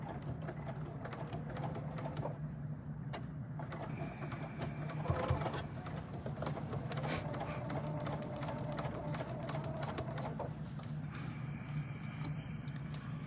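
A sewing machine stitches down the fabric of a reversible hat, its quiet rapid rattle running steadily nearby with faint background noise.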